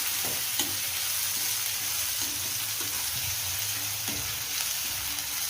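Chopped onions fry in oil in a pan for aloo baingan bhaaji, a potato and eggplant dish, giving a steady, close sizzle throughout with a few light stirring scrapes and no voices.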